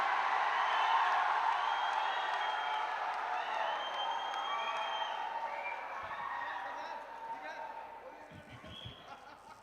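An audience at a Hindi poetry gathering applauds for poet Gauri Mishra, a dense wash of clapping and cheering that stays strong, then gradually thins and fades.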